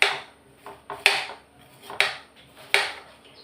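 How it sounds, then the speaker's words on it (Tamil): Bitter gourd sliced into thin rounds with a knife on a board, giving four or five sharp, close knocks at an uneven pace with quiet gaps between them. "இப்போ இந்த பாவக்காவை நான் ரவுண்டாக மெலிசாக கட் பண்ணிக்கிறேன்"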